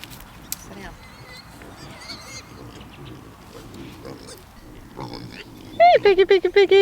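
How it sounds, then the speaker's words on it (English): Pigs in a paddock grunting and oinking, faint at first, then a run of loud, close, squealing oinks near the end, with a person talking to them throughout. "Hello, little piggies."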